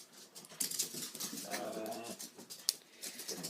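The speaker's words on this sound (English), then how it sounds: "my dogs are having their crazy 5 minutes right now" Several pet dogs yipping and whining excitedly indoors, short high-pitched yelps and a drawn-out whimpering note, faint and somewhat distant, with no talking.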